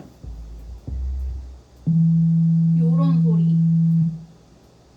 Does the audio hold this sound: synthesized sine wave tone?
yes